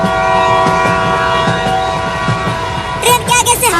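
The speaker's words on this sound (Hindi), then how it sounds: "अरे ट्रेन तो रुक ही नहीं रही।" A train passes close by on a railway line, its heavy rumble and wheel noise steady and loud, with a sustained horn blaring over the top and wavering at the end.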